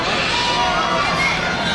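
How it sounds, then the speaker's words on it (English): A large crowd at a ninja obstacle competition cheers and shouts loudly in a continuous roar, with an announcer's voice talking over it. "The crowd is getting very loud."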